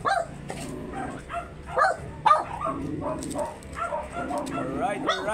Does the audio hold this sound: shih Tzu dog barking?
yes